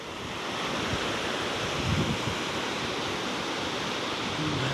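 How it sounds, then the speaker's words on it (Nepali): A swollen, flooded hillside river roars continuously after heavy rain, a dense, steady rushing wash of water with no pauses, loud and close throughout. "हेर्नु त बाढी हेर्नु त कस्तो आएछ"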